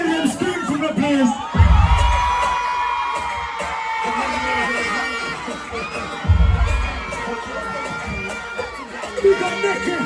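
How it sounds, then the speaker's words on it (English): A large crowd screams and cheers loudly and continuously at a live concert performance at Flush 2023 in St Elizabeth, with deep thumping bass hits underneath. "let me hear them scream from the place"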